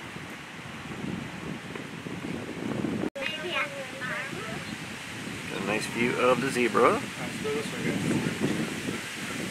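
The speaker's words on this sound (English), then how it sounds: "It's a bit windy right now." Steady wind rushes and buffets against the microphone throughout at a zoo in Fort Wayne, Indiana, with a person speaking briefly over the blustery noise.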